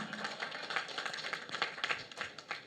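Applause from an audience at a film first-look launch, a dense patter of many hands clapping at once, steady and fairly faint throughout with no voices over it.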